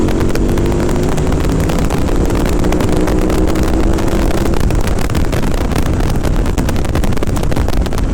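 A KTM 990 Adventure S motorcycle in fourth gear at about 100 km/h, a loud steady engine drone heavily buffeted by wind roar, with a rising tone early on, no voices.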